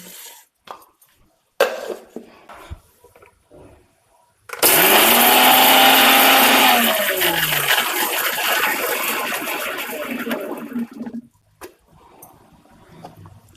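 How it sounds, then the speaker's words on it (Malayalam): An electric mixer grinder whirs loudly for about seven seconds, grinding dried red chillies, green chillies and salt. Its pitch shifts as the contents break down before it stops, with a few handling knocks before and after. "വറ്റൽമുളക്, പച്ചമുളക്, ഉപ്പ്, ഒന്ന് കറക്കാട്ടോ"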